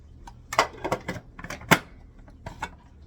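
Several sharp knife chops and thuds of a blade cutting large onions into quarters on a board, irregular close knocks with short gaps, no talking.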